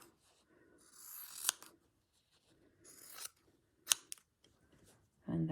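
Scissors trimming a piece of Tilda fabric for a stitched Christmas runner, several soft rasping cuts with sharp snips between them, close by in a quiet room.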